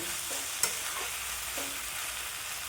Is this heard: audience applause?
no